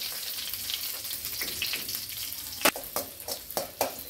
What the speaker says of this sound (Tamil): பூண்டு நல்லா சிவக்க வேகட்டும்.